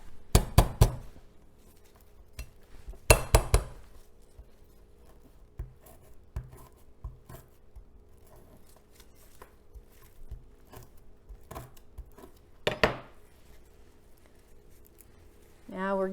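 Lemongrass being trimmed by hand: its little roots snipped and its stalks broken up in a few sharp crisp bursts, with quieter rustling and small taps between them, close by.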